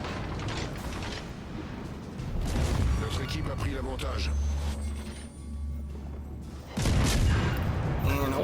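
Heavy naval gunfire from warships in World of Warships Legends, with a destroyer engaging a battleship: booming cannon blasts and low rumbling impacts recurring across the stretch, loud and layered over game sound, with a voice talking throughout.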